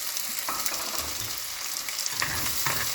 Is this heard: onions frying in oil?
yes